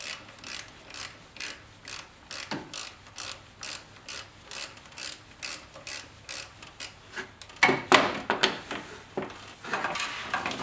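A ratchet with a 15 mm socket loosens an alternator bracket on a 2008 Chevy Colorado, clicking in quick regular bursts of back-and-forth strokes, then a louder clatter of handling near the end.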